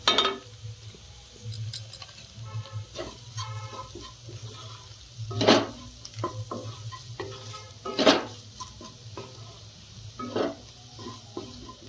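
Vegetables being stir-fried in a pan for Bengali-style chowmein: a steady sizzle with repeated scraping and clattering strokes of a spatula, a few louder knocks standing out.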